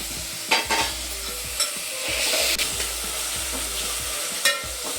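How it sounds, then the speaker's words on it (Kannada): Spice paste of mint, coriander, garlic, ginger, green chilli and cashews frying in a pan for mushroom pulao, a steady sizzle broken by several sharp stirring scrapes and taps. "ಈ ಥರ ಚೆನ್ನಾಗಿ ಫ್ರೈ ಆಗಲಿ"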